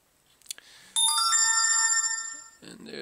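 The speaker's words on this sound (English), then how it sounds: "And there's a text message." A text message alert chimes on a Droid RAZR phone in an Otter Box case, a bright ringing melody of stacked tones that fades out, preceded by faint handling clicks and followed by a brief rustle.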